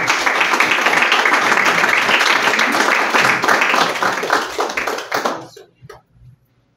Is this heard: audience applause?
yes